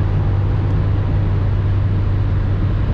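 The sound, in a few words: BMW X5 E53 4.4i V8 accelerating hard on highway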